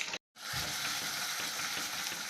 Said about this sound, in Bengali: আলুগুলো একটু ভেজে নিই ভালো করে